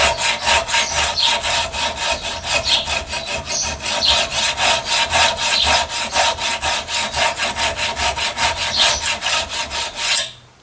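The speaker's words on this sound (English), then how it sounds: "let me go ahead and grind this down and get it to where I want it" An Old Hickory bushcraft knife blade is being ground down by hand in a steady, fast back-and-forth rhythm. Each rasping stroke comes loud and close, repeating evenly for about ten seconds before stopping abruptly.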